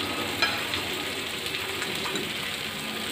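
Potato paratha frying in oil in a pan, giving a steady, even sizzle and crackle throughout with small pops, close and fairly loud and with no talking.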